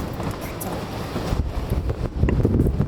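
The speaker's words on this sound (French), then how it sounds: "Le vent souffle super fort" Strong wind roars and buffets the microphone during a sandstorm in Iceland, a steady broadband rush with gusty surges that grow louder toward the end.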